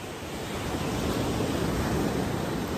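Ocean surf at a beach roars steadily and loudly, a continuous wash of breaking waves with wind, with no talking.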